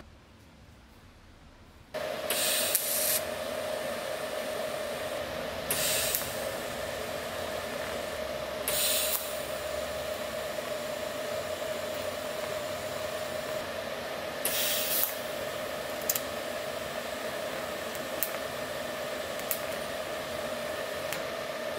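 A continuous hissing spray of lacquer thinner cleaning a part from a 1974 Ford F100 runs throughout, with a few brief sharper bursts breaking through the steady noise.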